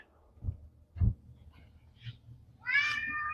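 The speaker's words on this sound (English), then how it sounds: "You're actually just kind of doing your meowing thing." Fernando the cat gives a single clear meow near the end, preceded by faint thumps and soft background noise in a quiet setting.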